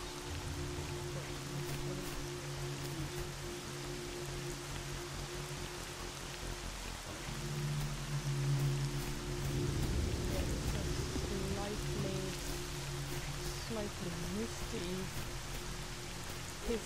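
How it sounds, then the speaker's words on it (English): Heavy rain hisses steadily in a bleak zone survival shooter, a constant dense patter that runs throughout, with a low hum and some muffled movement rising in the middle. "Pissing rain,"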